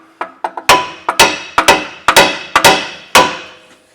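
A hammer taps an axle into place in a workshop, landing about a dozen sharp metallic knocks. Light taps lead into heavier blows at an uneven pace, close by, with no talk.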